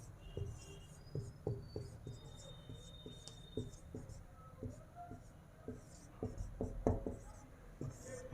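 Marker or chalk scratching across a board in a biology lecture on cell structure, a run of short rhythmic strokes and taps at moderate level, with a low room hum and a few quieter pauses.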